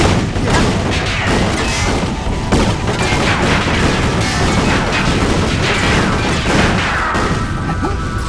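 Combustor weapons firing in Ratchet & Clank, a loud, unbroken barrage of rapid blasts, crashes and impacts layered thickly over one another for the whole stretch.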